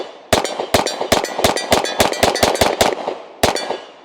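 A Nighthawk Blackhawk semi-automatic pistol fires about ten sharp, loud shots in a fast, fairly even string, then one last shot after a short pause, each crack ringing out briefly.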